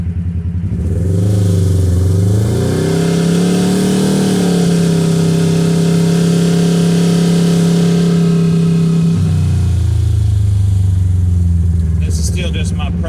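A Kawasaki KRX side-by-side with an Alba exhaust and JBS clutch weights revs hard on a test run, its engine climbing and holding a loud, close roar before dropping back to idle, with brief clatter at the end.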